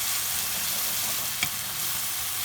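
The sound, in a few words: stirring shrimp tomato sauce in a pan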